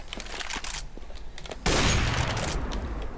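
Gunfire in CS:GO on the Nuke map, with a string of rapid shots followed by a sudden loud, dense burst of fire that holds to the end.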